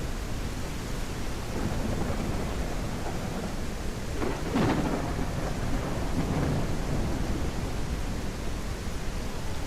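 Video game thunderstorm with rain: a continuous wash of heavy rainfall, with rolling thunder rumbles rising around the middle before fading back into the steady downpour.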